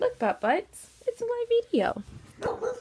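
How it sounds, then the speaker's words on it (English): A dog in a home gives a few short barks and yips near the microphone, mixed in between bursts of nearby talking. "Yes, that is a dog."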